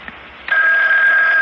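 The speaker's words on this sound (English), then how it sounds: "Oh, it's the phone ringing, Mother." Telephone bell ringing in an old-time CBS radio mystery drama, a steady electric ring that starts abruptly after a brief quiet lead-in and holds loud and continuous to the end.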